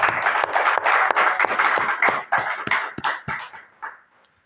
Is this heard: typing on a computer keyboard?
no